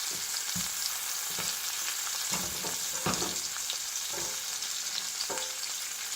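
A burger patty with onions sizzles steadily in a hot pan, a constant close crackle broken by several soft spatula scrapes and knocks as the patty is turned.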